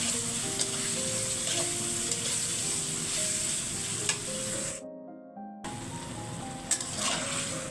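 Spices, potato and dried fish sautéed and stirred in a pan with a loud, continuous frying sizzle and occasional spoon scrapes close by, cutting out briefly and then resuming, with no talking.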